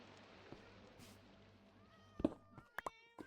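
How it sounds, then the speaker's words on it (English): A Minecraft cat gives a few faint, short meows close together near the end, over quiet game ambience with no talking. "Why is there a cat here?"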